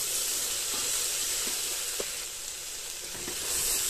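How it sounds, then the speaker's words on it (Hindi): Chana dal, potato and soybean fry in a pan with a steady, close sizzle, broken by a few soft stirring taps. "अब इन सबको हम अच्छे से फ्राई करते हैं, 2 या 3 मिनट तक हम अच्छे से इसको फ्राई कर लेंगे।"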